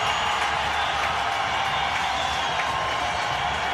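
Cricket stadium crowd applauding and cheering Brian Lara's batting record, a steady broad roar of clapping at an even level throughout, with no distinct voices.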